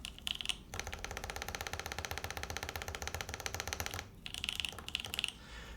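A mechanical keyboard shaken by hand, giving a quiet, busy clatter of loose rattling that runs steadily for a few seconds, stops briefly, then picks up again in short bursts.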